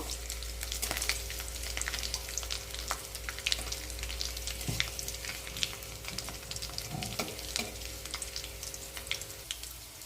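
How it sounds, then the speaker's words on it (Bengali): Black cumin seeds (kalo jeera) lightly frying in a pan, a close, even sizzle with crackles throughout and a low steady hum underneath. "এইবারে আমি কিছুটা পরিমাণে কালা জিরে দিয়ে দেব হালকা করে ভেজে নেব"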